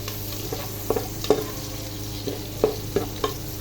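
Garlic sautéing in butter in a pan for pork calderita, with soft sizzling and several brief stirring scrapes, fairly close and quiet, no voices.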